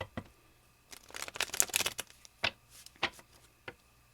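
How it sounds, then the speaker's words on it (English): A deck of tarot cards being shuffled close by, with a flurry of riffling snaps followed by a few separate, sharper card taps in a quiet room. "I'm gonna shuffle these cards."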